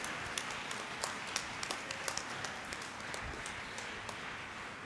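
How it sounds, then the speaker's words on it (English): Audience applause rings out at an inter-school debate meet, a steady patter of many hands clapping at fairly low level from across the hall, with no voices over it. "may we have a thunderous round of applause for both side proposition and opposition"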